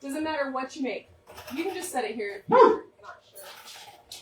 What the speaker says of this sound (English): Sorry about my dog. He's a little crazy also.